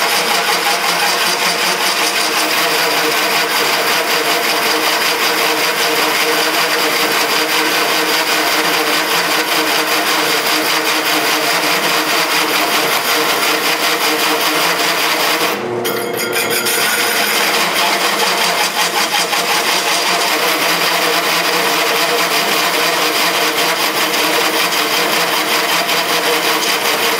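A cheap Harbor Freight 3-inch cut-off wheel grinds through metal during a homemade four-cylinder Briggs engine build. It makes a loud, harsh, continuous screech that breaks off briefly near the middle, then resumes.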